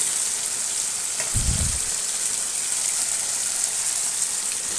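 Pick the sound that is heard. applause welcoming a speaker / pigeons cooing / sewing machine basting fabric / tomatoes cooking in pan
tomatoes cooking in pan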